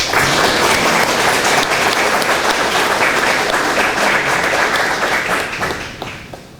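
An audience at a North Central State College event applauds steadily to welcome a speaker, a dense, loud wash of clapping that holds for several seconds before tapering off at the end.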